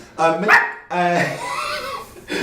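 A person imitates a dog barking during a tabletop role-playing game session, giving two bursts of voiced yips and barks close up, followed by a stretch of whining, talk-like vocalizing.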